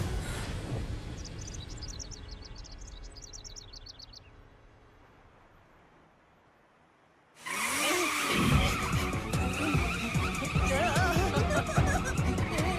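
An animated car with failed brakes skids, first with birds chirping over fading road noise, then a loud burst of tire squeal and racing engine noise that continues steadily.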